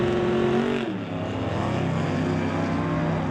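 Drag race cars in a qualifying round at the West Coast Outlaw Shootout, including a Malibu, roaring loudly with a sustained high-revving engine howl that shifts pitch as the run continues.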